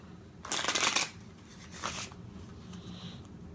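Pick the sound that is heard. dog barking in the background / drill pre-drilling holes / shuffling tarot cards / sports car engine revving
shuffling tarot cards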